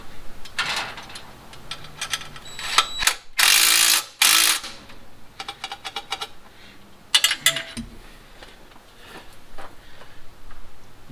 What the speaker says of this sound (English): If I can get the nut on from the back side.